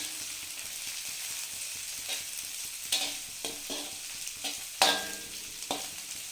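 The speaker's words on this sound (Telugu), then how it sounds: "వీటిని కూడా ఒక 10 సెకండ్స్ పాటు ఫ్రై అవ్వనివ్వాలి." Spring onions and carrot stir-fry in a pan for veg noodles: a soft hiss of frying broken by repeated quick scrapes and taps of a spatula, each stroke a brief bright clatter.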